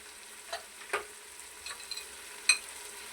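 Chopped green chillies, turmeric and salt going into a pot of chicken haleem, with quiet sizzling broken by a few soft stirring scrapes and clinks nearby.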